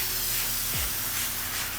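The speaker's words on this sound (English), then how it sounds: "I'm gonna pre-spray that." A spray bottle mists rinseless wash onto a ceramic-coated car. It makes a loud, close, continuous spraying hiss that lasts almost two seconds with no voices.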